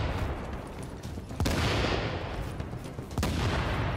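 Dense gunfire and booming grenade explosions in The Division, loud and continuous, with two sharp blasts standing out and no talk.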